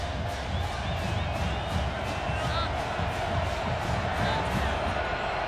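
A large college football crowd at Albertson Stadium in Boise roars steadily through a night game, a dense continuous wash of distant cheering and murmur with a commentator talking over it.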